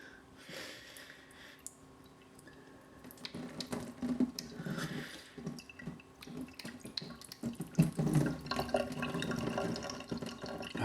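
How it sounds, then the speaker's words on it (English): Deionized water runs and splashes over a primary telescope mirror during cleaning, a steady trickle and spatter up close that swells louder toward the end. "So rinse again, deionized."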